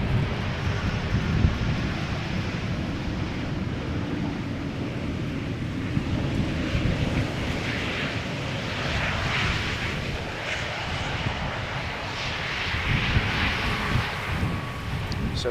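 A Nippon Cargo Airlines Boeing 747-8 at Amsterdam Schiphol produces a moderate, distant engine rumble with a breathy rush that swells and fades over about fifteen seconds, mixed with wind buffeting on the microphone.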